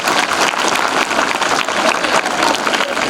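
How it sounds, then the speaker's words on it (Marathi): An audience at a Shiv Jayanti quiz event claps loudly and steadily for a boy who won, a thick continuous wash of hand claps with no pause. "याच्यासाठी जोरदार टाळ्या."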